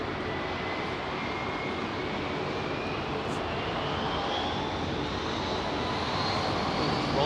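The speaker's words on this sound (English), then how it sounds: "Virgin Atlantic A350 1000." A Virgin Atlantic Airbus A350-1000 jet at London Heathrow near runway 27R makes a steady, loud engine roar with a faint rising whine that stays constant throughout.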